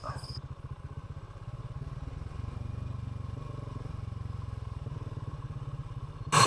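A motorcycle engine chugs steadily at low speed over a soft, slippery dirt road, with faint clattering throughout and a brief louder knock at the very end.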